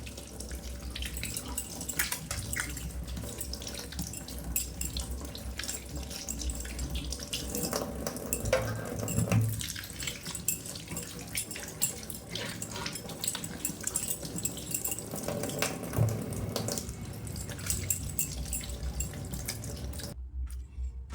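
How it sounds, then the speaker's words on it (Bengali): Ash gourd pieces being washed under a running tap in a kitchen sink, a continuous splashing water flow with small knocks and drips, near and steady for the whole stretch, cutting off abruptly at the end. "চাল কুমড়ো এবার ধুয়ে নেব।"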